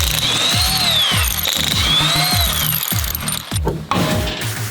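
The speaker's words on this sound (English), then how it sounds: "we're gonna pull the wheels off, and then we're gonna start unbolting suspension parts" A power tool, likely an impact wrench, unbolts the wheels of a Ferrari 550 in a garage with rapid, loud repeated hammering bursts and whining pitch sweeps, pausing briefly near the end.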